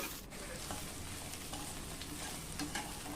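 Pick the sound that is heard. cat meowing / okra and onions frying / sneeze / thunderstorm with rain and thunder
okra and onions frying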